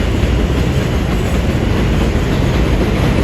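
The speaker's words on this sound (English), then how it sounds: "That sound is the sound of the train." A New York subway 2 train passes along the elevated tracks on White Plains Road, a loud, continuous rumbling roar of rail wheels that fills the whole moment, close by and with no talking.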